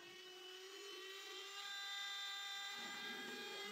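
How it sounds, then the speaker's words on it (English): A Dremel 200 rotary tool on a flex shaft carves a wooden gun stock, giving a steady high-pitched whine whose pitch drifts slightly as the bit grinds into the wood; faint, continuous and with no voices. "I'm using my Dremel flex shaft with a Dremel 200."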